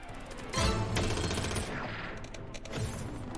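Rapid machine gun fire bursts from the Battleground Royale slot game, a dense crackling fusillade of shots with a short pause between two volleys, up close and loud.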